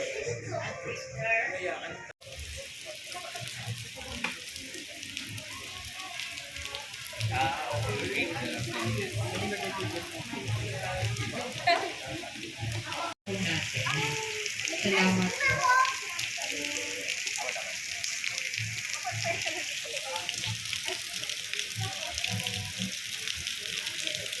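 Rain falling steadily in Luneta Park, Manila, a continuous hiss of drops through the whole span, with people talking over it.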